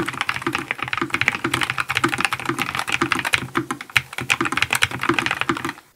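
Rapid, steady clacking of a NuPhy Air75 v2 low-profile mechanical keyboard with Cowberry switches being typed on, with crisp close keystrokes and a deeper thock on some presses, continuous and alone.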